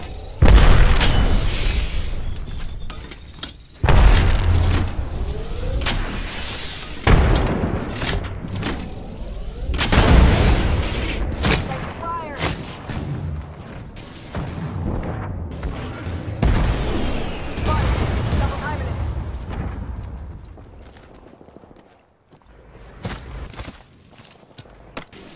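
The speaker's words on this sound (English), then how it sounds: "I'm getting shot at." Gunfire and heavy explosions from the video game Apex Legends, loud booming blasts and sharp bursts repeating through the clip, with quieter thuds and footsteps between them and a thinning toward the end.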